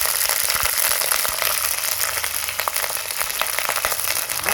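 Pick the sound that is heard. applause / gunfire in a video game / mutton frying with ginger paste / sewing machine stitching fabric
mutton frying with ginger paste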